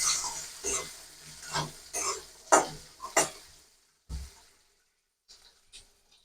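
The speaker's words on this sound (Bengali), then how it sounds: "সব মশলাগুলো একসাথে মিশিয়ে নেবো।" Spiced jackfruit seeds stirred in a pan, a series of close scraping and rustling strokes at an irregular pace, fading to near quiet with a few soft final scrapes.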